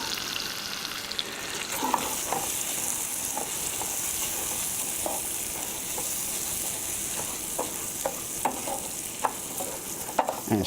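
Rice fries in hot fat in a pan with a steady, close sizzle, while a utensil stirs it, scraping and tapping the pan at irregular intervals throughout.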